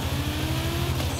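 Audi Group B rally car in Forza Horizon 5 on a wet rally stage, its engine droning loud and steady with rapid rhythmic anti-lag pops and crackles pulsing through a short burst.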